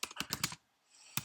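Typing on a computer keyboard: a brief, close burst of about five quick clacking keystrokes, a short pause, then one more keypress.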